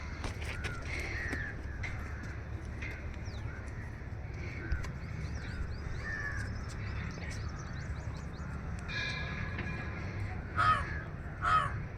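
Crows cawing outdoors near trees on a hillside, repeated harsh caws scattered across the span with louder calls near the end, over a low background hum and occasional faint voices.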